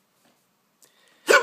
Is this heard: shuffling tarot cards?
no